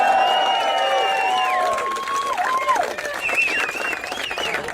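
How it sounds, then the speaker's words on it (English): A rally crowd at a Stop the Steal event applauds and cheers, with loud shouting voices and whistle-like calls rising over a steady wash of clapping throughout. "Round of applause for Dawn."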